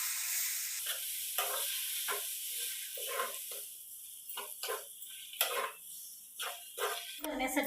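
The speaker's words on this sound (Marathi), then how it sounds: "यामध्ये आपण बारीक वाटण केलेले मिश्रण घालून घ्यायचे आहे। थोडे थोडे घालून असे" A finely ground spice paste is added bit by bit to a hot pan and sautéed, giving a soft sizzle with repeated scraping and stirring strokes at an uneven rhythm.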